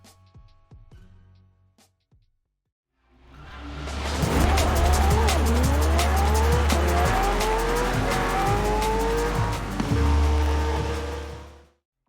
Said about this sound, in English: The last game tested today is Forza Horizon 4, one of the best arcade racing games I've ever played.